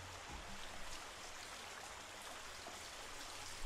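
A babbling brook in Iceland, steady broadband rushing and trickling of flowing stream water, constant and moderately quiet, with no talking.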